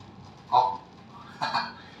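A chicken gives two short clucks about a second apart, each a brief nasal burst, fairly close and heard alone without speech.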